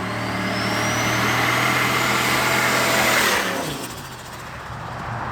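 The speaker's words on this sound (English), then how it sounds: "we installed a 406 Stroker Mopar Performance crate engine, and boy does it like to make some awesome noises" Dodge Diplomat police car with a 406 stroker Mopar Performance crate engine and turbo, engine running loud and close with a rising whine, then the roar eases off near the end.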